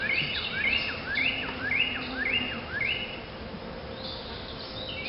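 Honeybees hum steadily around a frame pulled from a swarm hive during re-queening, a close, continuous drone with bird chirps repeating over it in the background.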